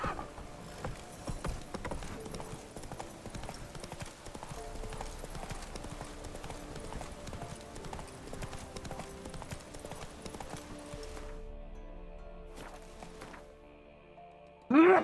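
A horse's hooves clip-clop in a quick, regular trot, close and steady for most of the stretch before dropping away, with a sudden loud burst at the very end.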